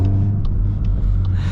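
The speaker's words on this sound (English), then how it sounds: "Exhaust valves are open." Volkswagen Golf R MK8.5 Black Edition with its exhaust valves open, giving a steady deep low rumble close by, continuous through the moment with no speech.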